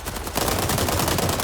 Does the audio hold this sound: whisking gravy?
no